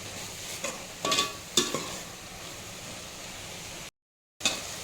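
A spatula scrapes and stirs through food in a pan in a few quick strokes over a steady low sizzle, with a brief silent gap near the end.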